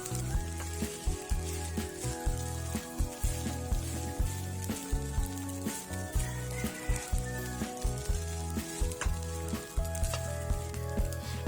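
Fried rice with egg sizzling in a pan, a continuous close crackle of frying with rhythmic stirring scrapes and small clatters repeating throughout.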